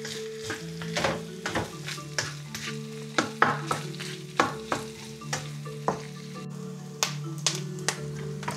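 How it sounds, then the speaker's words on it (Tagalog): Garlic, onion and fish sauté in a pan for adobo sa gata with sitaw, a steady sizzle punctuated by rhythmic spatula scrapes and clinks against the pan, close and fairly loud with no voices. "pagkagisa na ang ating bawang sibuyas tsaka yung isda"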